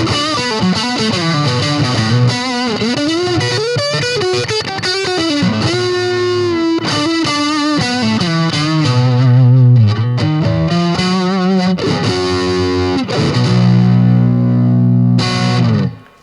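Heavily distorted electric guitar through a small Marshall MG15CR practice amp, chords and sustained notes ringing steadily with effects, loud and close, no voices.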